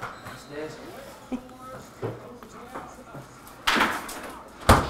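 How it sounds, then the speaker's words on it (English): A dog shuts a door in a home on command, the door closing with a loud thump near the end after some softer knocks and movement, with a person talking around it. "go shut the door."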